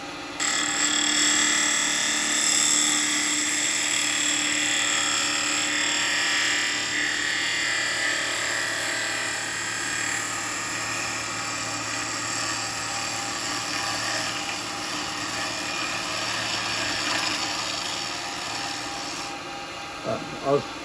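A bowl gouge and spindle gouge cutting a wooden bowl on a lathe, a steady continuous scraping rasp over the motor's hum lasting throughout, with a couple of sharp knocks near the end.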